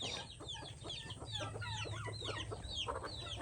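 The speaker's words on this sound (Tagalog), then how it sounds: "mag-uumpisa ako sa pagpapakain ng manok" Chickens, including fighting roosters, on a rural farm in the afternoon, clucking and chattering busily while being fed. Many overlapping calls form a steady, moderately close flock chorus with no talking.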